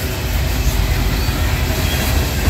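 Norfolk Southern freight train passing through Creighton, Pennsylvania, a loud close heavy rumble with dense rolling wheel noise and faint clatter, steady throughout with no voices.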